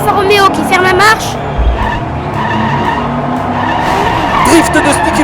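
Diecast toy race cars, among them a Corvette, Porsche, Nissan and Alfa Romeo, drift around a miniature track, giving a continuous dense screech and rolling rumble while a race commentator talks excitedly over it.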